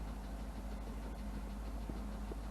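A Land Rover Discovery 2 engine running after a repair, a steady low idle rumble with a continuous hum and no talking.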